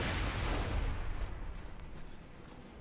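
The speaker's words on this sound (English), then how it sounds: "Oh, grenade." A grenade blast in Borderlands 2: a loud, rumbling explosion at the start that slowly decays into a long low tail over a few seconds, with no talk.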